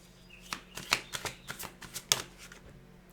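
Tarot cards are shuffled and riffled close by in a quick run of crisp flutters and soft slaps, a few sharper snaps standing out in a quiet room.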